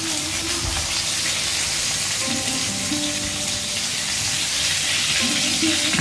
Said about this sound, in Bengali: মাছের মাথাটা একটু কড়া করে ভেজে নেওয়া প্রয়োজন